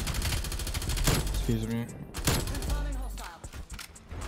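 Automatic LC10 gunfire in a first-person shooter, fast rattling bursts mixed with game effects while someone talks over it.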